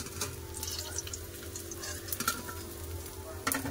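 Rohu fish pieces fry in oil in a pan, giving a steady close sizzle with crackling pops and a few louder spatters and scrapes, with no talk.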